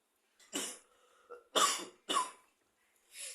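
Several short dry coughs come in quick bursts, close and fairly quiet, with brief pauses of silence between them.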